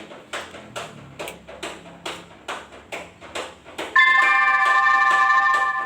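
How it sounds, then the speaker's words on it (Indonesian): A school break bell sounds in a classroom. Steady rhythmic ticking comes first, then a loud, sustained electronic ringing tone starts partway through and carries on to the end. "karena bel istirahat kita telah berbunyi"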